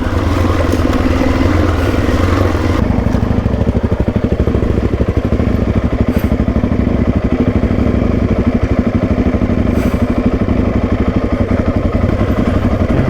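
Suzuki DRZ400E dirt bike crawling downhill in first gear on the Old Coach Road, Cape York; steady loud engine chugging close up, rhythmic and continuous throughout, no talking.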